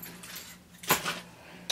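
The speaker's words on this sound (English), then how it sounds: "And then here are my keys." Keys jangle inside a Louis Vuitton Speedy 25 handbag, a short metallic rattle followed by a brief chime near the end, close and fairly quiet.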